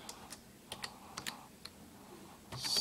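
Close, quiet keystrokes on a computer keyboard come in a few short irregular bursts of clicks with brief pauses between them.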